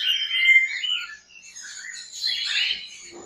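Cockatiels, including a breeder male, let out bright chirps and whistled calls in short bursts, fairly close and clear, with no talking.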